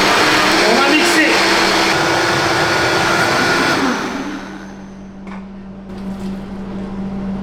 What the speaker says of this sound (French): On va mettre la moitié de cette préparation dans un bol mixeur.